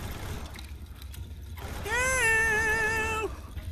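A cat gives one long, loud wavering meow from a played cat video, standing out alone over a low hum in the middle of the clip.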